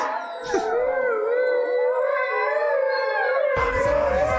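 Several dogs howl and whine together in a sustained, wavering chorus, loud and close, with pitch sliding up and down and no talking over it.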